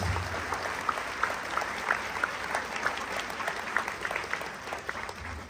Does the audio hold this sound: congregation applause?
yes